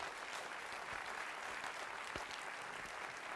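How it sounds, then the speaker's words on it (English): An audience at an awards ceremony applauds, a dense, steady clapping from a full room that holds evenly throughout with no voices over it. "Could we please give them a big round of applause?"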